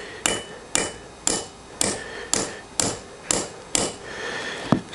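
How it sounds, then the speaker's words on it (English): A hammer taps a punch against a rusty, seized brake caliper on a Tiger 955i motorcycle, giving eight light, evenly spaced metallic knocks, close and clear with no talking. "I'm using the hammer like that because I don't want to hit it too hard."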